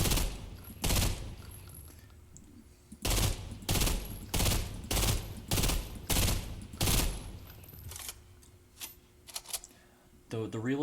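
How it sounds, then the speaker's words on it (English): A burst rifle in the video game Fortnite fires repeatedly, loud close bursts of rapid shots in a steady series with short gaps between them, followed by quieter reload clicks and mechanical sounds. "This is the regular burst rifle."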